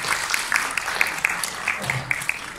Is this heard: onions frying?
no